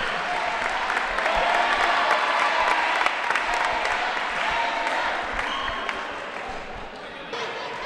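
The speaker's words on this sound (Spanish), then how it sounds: "menuda ovación, digo, hacia la integrante del grupo" Folklore groups at a wrestling and folklore workshop give a member of the Zamora group a sustained ovation: dense, continuous clapping and crowd noise that slowly fades toward the end.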